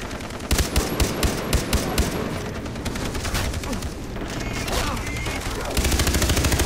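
Rapid gunfire in Far Cry 3, a dense, steady stream of loud shots and bursts near at hand, with game noise underneath and brief voices.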